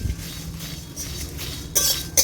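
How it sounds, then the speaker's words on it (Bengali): Whole cumin, coriander and five-spice seeds with dried chillies are stirred in a kadai, a soft scraping shuffle ending in two sharp metallic clinks of the utensil against the pan. "মশলাটাকে নাড়তে থাকবো।"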